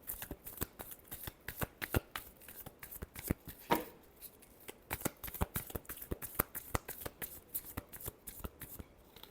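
Tarot cards are shuffled by hand close up, a quick run of crisp riffling flutters and soft taps repeating in irregular bursts, with one louder bridge-like riffle partway through and no voices.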